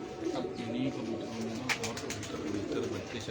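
Pigeons on a rooftop loft, a fancy breed with natural pearl markings, coo in soft low repeated calls under a steady murmur of background noise.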